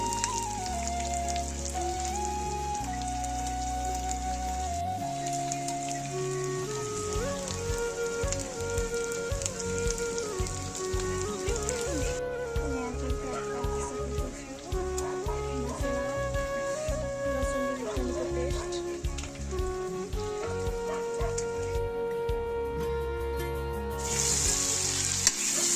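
Local chicken meat frying in a pan makes a steady, close crackling sizzle throughout, with music playing over it.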